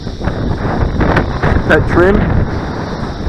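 Strong wind batters the microphone outdoors at a flying site for a custom Jet-V4 RC wing, a loud, gusting roar with a brief voice and a short engine whine heard through it.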